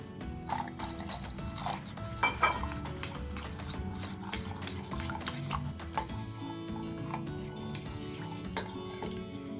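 A spoon stirs sattu flour and water in a pan, making repeated light metallic clinks and scrapes in an irregular rhythm, close and fairly quiet, with no talking.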